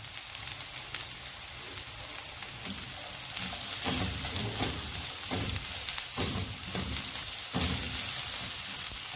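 Carrots cut lengthwise fry in a pan for a sandwich filling, a continuous moderate sizzle with occasional crackles and stirring bumps, no voices.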